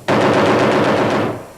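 A single loud, close burst of machine gun fire rattles for just over a second in rapid, evenly spaced shots, then cuts off.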